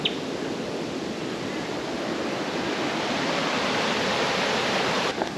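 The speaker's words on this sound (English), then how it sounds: "Head back down to this creek and cool off, I reckon" A creek rushes along a track in Cape York, a steady broadband wash of flowing water, close and continuous with no voices.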